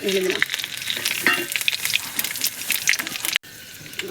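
Potatoes fry in hot oil with a bright, crackling sizzle and a few stirring scrapes. It stays fairly close and steady, then cuts off abruptly near the end.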